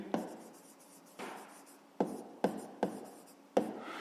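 Pen strokes scratch across paper during a fifth-grade maths exercise, six short, close, distinct bursts of writing, each starting sharply and trailing off, in a quiet room.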